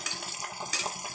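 Fish frying crisply in an iron pan crackles close and steady, with soft scraping stirs and small clinks running through about a second of sizzle.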